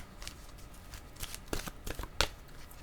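Tarot cards shuffled and drawn by hand, a run of soft papery riffles and flicks with a few sharper snaps, close and fairly quiet with no talking.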